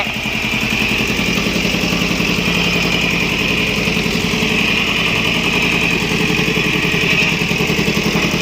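A Shibaura 14 hp four-wheel-drive Japanese tractor idles with its original Japanese exhaust, giving a steady, loud, close diesel chug with even rapid pulsing and rattling vibration throughout, and no voices.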